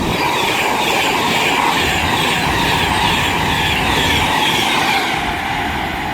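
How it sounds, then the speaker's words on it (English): A Virgin Pendolino passes at speed on the West Coast Main Line at South Kenton, a loud, steady roar of rushing carriages and wheels that holds close and continuous throughout before easing slightly at the end. "we have a Virgin Pendolino ready to pass by."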